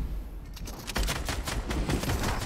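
Rapid bursts of video game gunfire in Fortnite during a duo tournament match, dense overlapping shots and volleys that stay loud and close for the whole stretch, with no talk over them.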